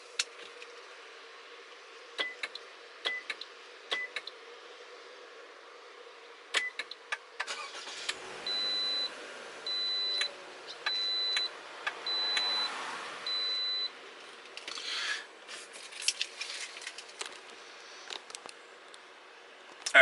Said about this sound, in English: Alright, the vehicle started up just fine